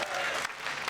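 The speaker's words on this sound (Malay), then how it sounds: "Tepukan sekali untuk Alif dan Noh." A game show studio audience breaks into applause, a brief, dense burst of clapping heard close and filling the room.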